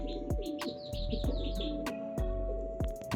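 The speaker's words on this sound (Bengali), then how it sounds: "এই দেখেন পায়রাটা কত সুন্দর ডাকতেছে, একদম গলা ফুলিয়ে" Pigeon in a home loft cooing with a puffed throat, a close series of soft repeated calls with sharp wing or foot taps, over a steady mechanical hum.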